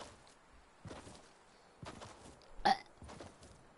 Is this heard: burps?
yes